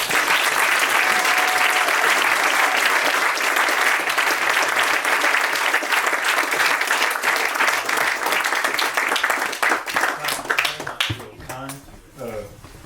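Sustained applause from an indoor audience welcoming Glyn Johns and Ben Bridwell to a bookstore event at BookCourt, dense and steady clapping that thins out and fades near the end.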